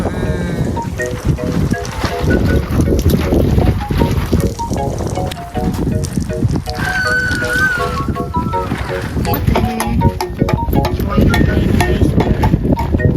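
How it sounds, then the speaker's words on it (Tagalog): Strong wind roars and buffets the microphone continuously, loud and close, with other faint sounds beneath. "Grabe yung hangin niya guys."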